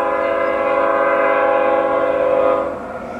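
Canadian Pacific intermodal stack train led by two GE ES44AC locomotives, one a 2010 Olympic unit, sounds a loud, sustained multi-tone horn blast close by that cuts off after about two and a half seconds, leaving rumbling train noise.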